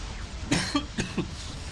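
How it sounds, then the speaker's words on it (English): Two short, close coughs in quick succession, each a sharp burst followed by a smaller one, against a steady low background hum. "Still having a little cough with me here."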